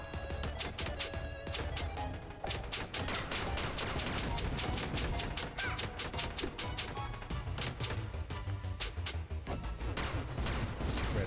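Rapid spread-shot attacks from the video game Shantae and the Seven Sirens, a dense, continuous barrage of overlapping sharp blasts over busy game music, loud and steady throughout with no talking.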